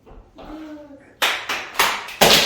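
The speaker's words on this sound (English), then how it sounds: "we clap it up for him" A small group on a talk show set talks briefly, then breaks into loud, close clapping that comes in several strong surges to the end.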